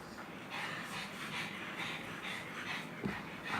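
A dog pants close by in quick, steady rhythmic breaths, a continuous huffing that lasts throughout with no voices.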